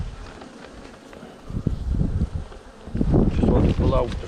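Honeybees buzz around an open brood box during a hive inspection, a soft continuous hum that grows louder in the second half, with faint handling noises.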